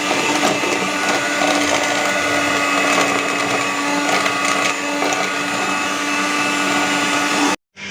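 An electric mixer beats sugar into cake batter, a loud continuous whirring drone held steady for several seconds before cutting off abruptly and briefly restarting.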